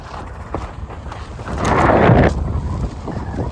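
Strong wind buffets the microphone out on frozen Lake Pepin, a rough, close roar that swells loudly for about a second mid-clip before easing back to steady gusting.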